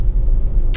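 Honda Civic 1.6 i-DTEC SR Tourer diesel estate on the road, a steady low engine and road rumble throughout, closing with a short bright swish of passing air or tyre noise.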